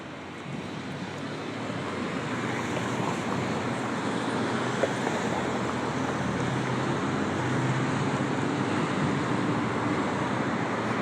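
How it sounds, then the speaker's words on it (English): Cars move along a road in a continuous, even roar of traffic that swells gently like ocean surf, filling the whole stretch without any talk. "I like the sound of cars moving."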